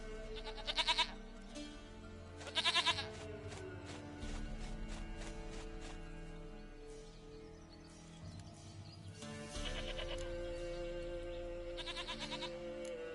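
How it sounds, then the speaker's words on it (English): A goat in The Witcher 3 gives short bleats in bursts early on and again near the end, carried over a continuous layer of game music and ambient sound, with no speech. "Goat of mine, dearest, sweetest goat."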